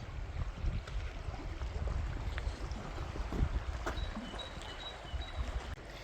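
The Nive, a small river, flows steadily as a continuous, moderately loud broadband wash of water with no voices over it.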